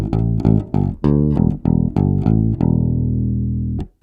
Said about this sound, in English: first I'm going to start with the bass sound on its own